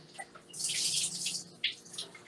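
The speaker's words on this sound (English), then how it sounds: "let's wash off our cutting board because we're going to need that again" A kitchen tap runs while a cutting board is rinsed under it, a close, hissing gush of water that swells and then breaks into shorter splashes.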